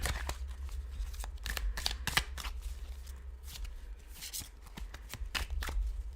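Tarot cards are shuffled close by in quick bursts of riffling snaps and soft slaps, repeating irregularly, fairly quiet, with no talking.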